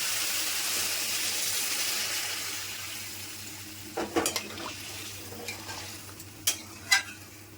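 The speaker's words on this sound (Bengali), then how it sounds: "এবার জল দিয়ে দিচ্ছি।" Water poured into a pan of ridge gourd and potato sautéed with spices, starting as a loud rushing hiss for several seconds, then giving way to a few sharp clinks and taps of utensils.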